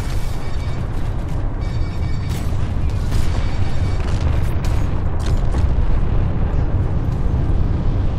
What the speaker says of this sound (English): God, look at all the bombs being dropped.